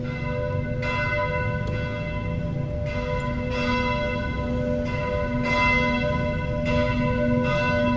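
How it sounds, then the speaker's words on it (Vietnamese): Church bells at Chợ Quán church in Chợ Lớn ring out at noon, struck again and again at an uneven pace with long ringing overtones, heard steadily from the church grounds. "Tiếng chuông nhà thờ ngân vàng."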